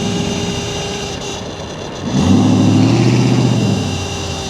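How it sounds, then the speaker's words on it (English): A Corvette engine revs nearby on a Fresno street, rising from a steady idle rumble into a louder, deeper surge that holds and then eases slightly. "He's like revving for nothing."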